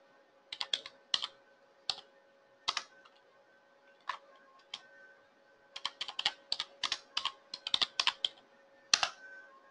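Close, crisp keystrokes on a computer keyboard as a command is typed, a few isolated taps then a quicker burst of clicks over faint electrical hum.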